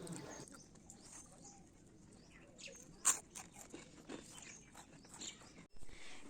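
Pigeons on a rooftop give soft cooing calls and scattered flutters and taps, faint and intermittent over a quiet background, with one sharp close knock partway through.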